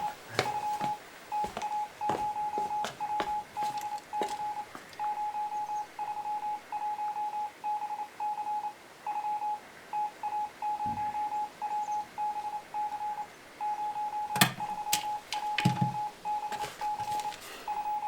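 Rapid Morse-style telegraph beeps from a radio receiver in a wartime command post, a steady high tone keyed on and off in quick irregular bursts, continuing for the whole stretch over faint static with occasional clicks.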